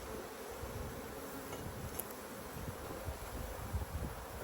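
Honey bees hum around an open hive, a continuous close buzzing swarm with individual wingbeats rising and falling, plus occasional faint rustles and soft knocks from the hive frames.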